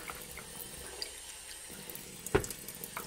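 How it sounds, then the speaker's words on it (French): A little water is added to a rock tumbler barrel holding soft stones, a quiet wash of liquid with one sharp splash or clunk near the end, no voices. "Et un petit peu d'eau."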